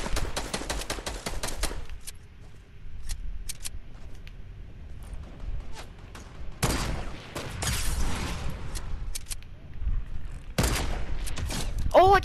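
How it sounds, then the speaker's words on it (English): Sniper rifle shots ring out in a fast-paced video game, several sharp cracks and bursts of gunfire scattered across the stretch, some in clusters, mixed with game noise and a voice talking at times. "Oh, I just sniped that kid"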